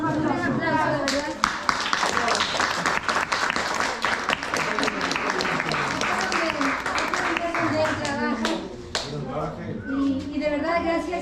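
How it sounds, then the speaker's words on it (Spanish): Audience applause following a talk at a startup inauguration event, with dense, steady clapping throughout and voices talking over it. "Muchas gracias a Tony, un aplauso, de verdad."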